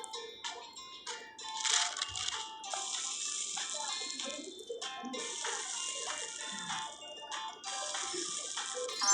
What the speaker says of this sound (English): So we have to take some snow powder and water to make snow.